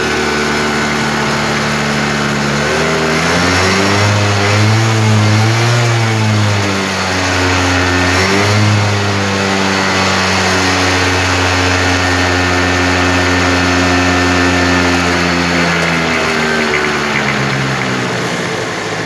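A two-stroke scooter engine, its cold muffler smoking as the engine takes in oil, idles steadily, then revs up and down in a few rising and falling sweeps before settling back to a loud, even idle.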